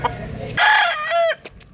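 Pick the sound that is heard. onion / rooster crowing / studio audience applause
rooster crowing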